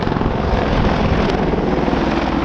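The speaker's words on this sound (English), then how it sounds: "the crew are now performing a bunt" An Army Air Corps Apache helicopter performing a bunt at an air show, its loud continuous rotor and engine roar with a dense steady thrum filling the whole stretch.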